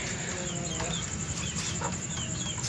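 Aseel chickens and roosters cluck and squawk in short bursts over a constant mechanical hum, a few birds calling close by in a rooftop cage.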